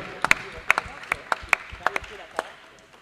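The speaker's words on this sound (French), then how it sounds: "On peut l'applaudir, mesdames et messieurs." Sparse, scattered handclaps from a small talk-show audience applauding a performer, about a dozen sharp separate claps over a few seconds, fairly close and never building into full applause.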